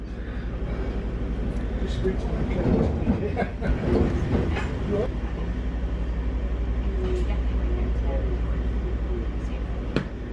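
Steady rumble and rail clatter from inside a Vivarail train running on the line to Bedford, a continuous low drone with occasional clicks and a voice briefly speaking.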